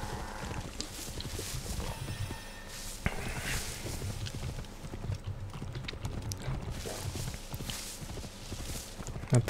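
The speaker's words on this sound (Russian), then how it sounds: "Это самый красивый конь в этой игре." Horse hooves clip-clop at a steady walking rhythm, with snorts and creaks, in the Assassin's Creed Origins video game, set against game ambience and music.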